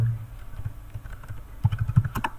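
PHP code is typed on a computer keyboard in rapid, uneven clusters of close key clicks, growing a little busier toward the end.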